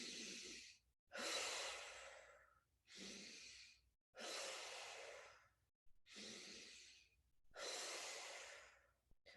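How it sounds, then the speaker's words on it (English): A person does a deep breathing exercise, taking slow, loud breaths at close range: about four long inhales and exhales in a steady rhythm with short silent pauses between them. "Take 3 big deep breaths."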